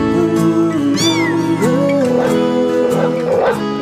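Kittens mew in a busy run of high, wavering cries that rise and fall over a dense background, with the calls close and fairly loud.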